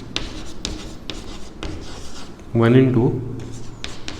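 Chalk or marker scratches and rubs across a board in short strokes during a maths lesson on coordinate geometry, heard under a teacher's speaking voice, with a louder spoken burst midway.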